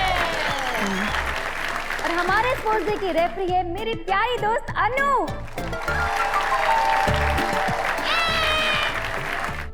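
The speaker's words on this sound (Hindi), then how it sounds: "जोरदार तालियां हो" Neighbourhood women lined up with lemons and spoons for a lemon-and-spoon race on a sports day get a round of applause, with clapping running under a woman's lively announcement and swelling louder after she finishes.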